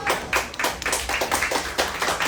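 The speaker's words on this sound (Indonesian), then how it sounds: "Saya boleh tepuk tangannya sekali lagi dong." Audience applause at an Indonesian ceremonial event, steady clapping from a crowd with rhythmic peaks throughout, close and fairly loud with no talking.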